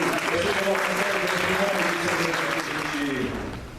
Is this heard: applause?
yes